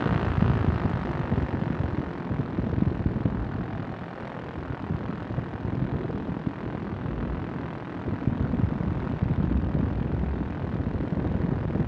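Steady engine drone and wind rush of a light aircraft coming in to land, close and loud and constant throughout, with no talk.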